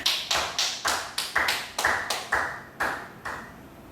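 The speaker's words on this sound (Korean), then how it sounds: "우리 하나님께 영광의 박수 드리도록 하겠습니다" Congregation clapping in church during a Friday prayer service, a steady run of about a dozen sharp, evenly spaced claps, fairly close and alone with no talk over them.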